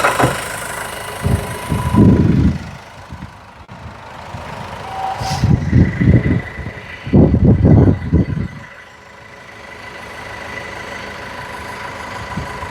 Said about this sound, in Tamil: இதோட இன்ஜின் காட்டுறேன் பாருங்க